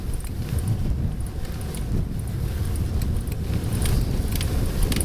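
Wind blows steadily across the stony Mauritanian desert, buffeting the microphone in a continuous low roar with gusty swells and no voices.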